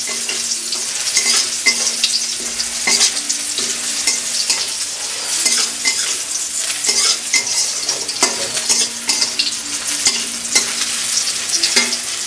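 Sliced onions sizzle in hot oil in a pan for pork kosha, with a continuous loud fry and repeated scraping strokes of a spatula stirring them, no voices present.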